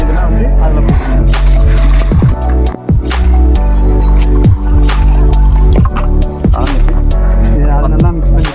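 Lime and soil being worked together with water by hand, giving close, wet squelching and dripping sounds in a steady, repeated kneading rhythm with a constant low hum underneath.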